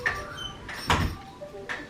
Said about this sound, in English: And if we close the door up